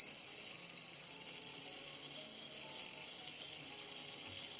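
A steam kettle whistles with one continuous, shrill, piercing tone that holds steady and loud from start to finish, alone without voices.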